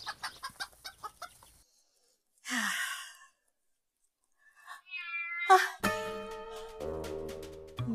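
A cat crying in a Pakistani drama scene, drawn-out wailing meows with strained, sighing tones, preceded by clucking hen sounds and followed by dramatic music, the cries loud and close.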